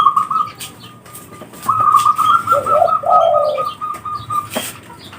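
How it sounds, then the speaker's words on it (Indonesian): A zebra dove of the perkutut Bromo Labu Geni type coos in a clear, close, rhythmic phrase of repeated notes, with soft wingbeat-like flutters and a quiet background, no speech over it. "Jadi perkutut Bromo Labu Geni"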